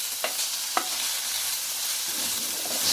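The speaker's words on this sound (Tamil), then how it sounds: "நம்ம ஊற வச்ச பாவக்காயை எடுத்து ஒரு சட்டியில் நல்லா எண்ணெய் ஊற்றி வதக்கி எடுத்துக்கிறோங்க." Soaked bitter gourd sautés in oil in a pan, a steady loud sizzle with a couple of sharp utensil scrapes from stirring early on.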